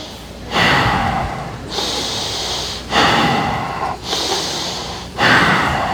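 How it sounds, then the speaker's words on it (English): Breathing in and out through the nose with a hand over the mouth during a staff wellness session: three long, loud, close breaths with airy, muffled rushes and short pauses between them. "Take your hand, put it over your mouth. Breathe in and out 3 times with your nose."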